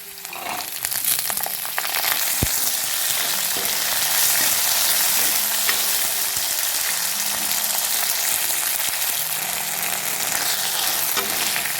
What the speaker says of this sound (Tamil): புளியங்காய் நல்லா வணங்கிடுச்சு